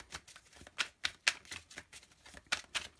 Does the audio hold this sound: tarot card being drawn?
yes